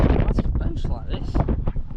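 Strong wind buffets the microphone in loud, gusty bursts of rumbling noise throughout.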